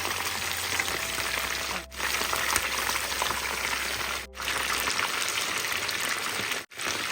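Chicken pieces fry in oil over medium heat, giving a dense, continuous close-up sizzle like rain on a surface, broken by a few brief near-silent gaps and a low hum early on.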